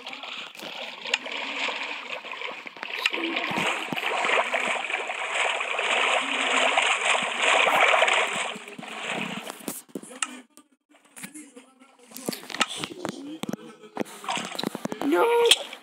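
Swimming splashes in water in the video game Minecraft, a continuous watery rushing and splashing through most of the clip, with excited talking over it.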